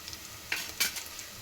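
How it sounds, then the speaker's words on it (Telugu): Onions and chilies frying in a pan while beetroot rice is being cooked, giving a quiet sizzle with a few brief stirring scrapes and crackles and no talk. "ఆనియన్ కొంచెం రెడ్గా ఫ్రై అయిన తర్వాత మనం ఇలా కట్ చేసి పెట్టుకున్న చిల్లీస్ వేయాలి"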